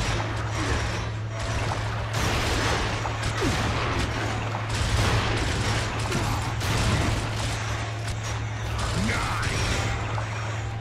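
Sustained rapid gunfire in the Gears of War video game, a dense, continuous clatter over a steady low hum. No talk is heard.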